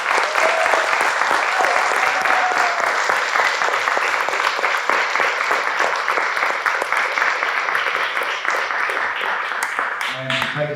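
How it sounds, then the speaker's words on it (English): Sustained applause from an audience thanking the speakers at a talk event, dense steady clapping that holds strong for about ten seconds before thinning slightly at the end. "So can we please give our speakers a round of applause?"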